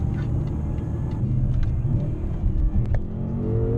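A BMW M5 F10 with a 4.4 V8 bi-turbo engine accelerates hard, its exhaust giving a loud, continuous deep rumble and roar heard from inside the car, with a brief shift-like dip near the end before the pull resumes.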